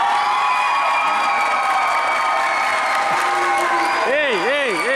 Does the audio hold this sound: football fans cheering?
yes